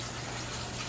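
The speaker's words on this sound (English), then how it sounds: "let me wash my hands real quick" Hot tap water runs steadily from a faucet over hands being washed, a constant close gushing stream with no pauses and no voices.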